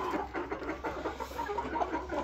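Jumbo Cornish Cross meat chickens at about 12 weeks cluck and murmur steadily as a flock while being herded toward their coop for the night, a dense, continuous close-range chorus.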